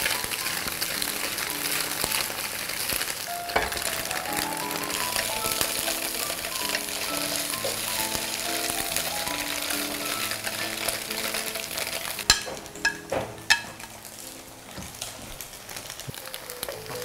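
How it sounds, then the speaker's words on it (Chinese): Tofu pan-fries in oil with a continuous, even sizzle, joined near the end by a few sharper knocks and clatters, apparently from turning the pieces over. "侧面我们也煎一煎"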